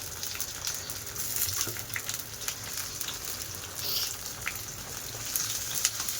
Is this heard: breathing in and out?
no